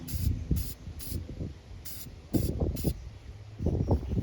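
Several quick hissing bursts from an aerosol can sprayed onto car battery terminals, close and crisp, come in two clusters separated by rustling and handling sounds.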